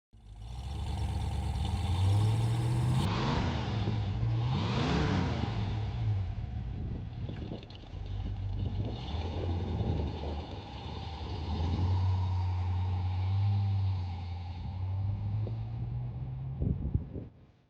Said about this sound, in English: the 1966 Ford Mustang K-Code GT was a performance sleeper with a high-revving 289 cubic inch hypo V8 engine